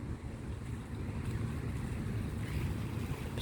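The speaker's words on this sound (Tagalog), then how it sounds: "Grabe ang laki yun ng barko" A large, heavily loaded ship passes over the water, heard as a steady low rumble mixed with wind buffeting and the wash of waves, continuous and fairly close throughout with no talking.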